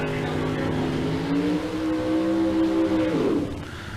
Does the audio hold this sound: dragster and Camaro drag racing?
yes